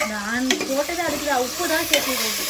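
Whole cinnamon, black pepper and cumin frying in hot oil in a pan for mushroom biryani, a close, steady sizzle broken by scraping stirs.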